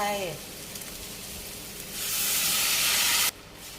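Glass noodles, mushrooms and tofu fry in rendered bacon fat in a pot, a close hiss swelling into a loud sizzle before cutting off abruptly, with a voice briefly heard at the start.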